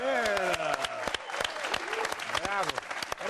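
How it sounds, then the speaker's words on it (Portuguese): Studio audience applause on a Brazilian TV football comedy show, a steady clatter of clapping running under loud overlapping voices for a few seconds. "Uma salva de palmas."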